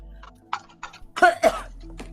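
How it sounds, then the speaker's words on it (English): A couple of short, harsh cough-like bursts close by, with faint background murmur around them. "Oh, someone had cough."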